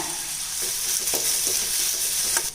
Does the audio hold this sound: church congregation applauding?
no